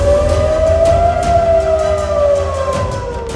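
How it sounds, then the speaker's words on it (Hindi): Air raid sirens wail across South Korea, a loud sustained rising-and-falling tone that bends slowly downward, with steady background noise beneath. "दक्षिण कोरिया में सारी रात सायरन बजता रहा।"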